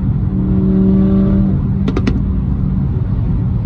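A McLaren sports car fitted with a Quicksilver exhaust rumbles loudly nearby at a charity track gathering of supercars, a heavy engine drone rising in pitch briefly before settling, with a few sharp pops midway.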